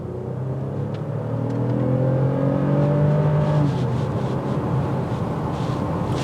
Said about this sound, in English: You get a good exhaust note.